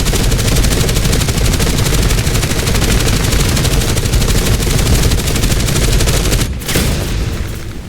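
Aircraft machine guns fire during a flight combat game dogfight against a TBD-1, a dense, loud, continuous rattle over engine roar that breaks off abruptly near the end.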